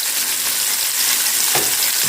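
Masala-coated fish frying in a pan over medium heat, a steady broadband sizzle running throughout with a brief stir or shift near the end.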